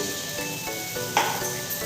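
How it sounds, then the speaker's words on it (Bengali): Spice paste frying in a pan for Bengali egg curry (dim chorchori), a steady soft sizzle running throughout with one brief louder crackle midway. "এই যে মশলাটা পুরো ভাজা ভাজা হয়ে গেছে, ডিম চচ্চড়ি বানাচ্ছি"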